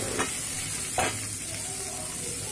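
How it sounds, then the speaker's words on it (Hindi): Chopped carrots, capsicum and beans fry in a pan for veg fried rice, giving a steady soft sizzle broken by two brief stirring scrapes. "ये सारी सब्जियां इसमें डालने के बाद इसको फ्राई करना है, लगभग 2 मिनट इसको फ्राई करेंगे।"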